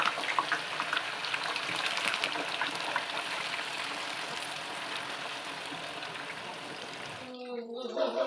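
Seasoned tofu frying in hot oil in a simple wood-fired kitchen, a dense, steady crackling sizzle that runs for several seconds before cutting off, with a brief voice at the end.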